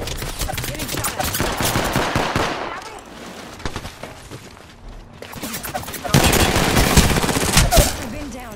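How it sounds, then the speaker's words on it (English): Rapid automatic gunfire in the Apex Legends battle royale game, loud bursts of rattling shots that pause briefly mid-clip and then resume even louder, with a voice talking over the action. "The enemy is shooting at me."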